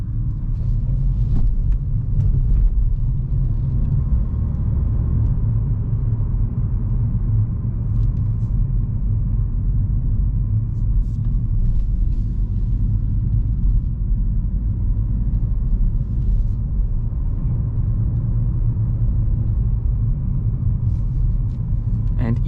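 New 2024 Renault Clio hybrid facelift driving on a racetrack, heard from inside as a steady low engine and road rumble that stays constant throughout, with a voice speaking faintly in places.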